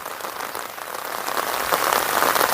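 Light drizzling rain falls on a village near the Feni border, a steady close hiss of drops on surfaces that swells slightly toward the end, with no voices.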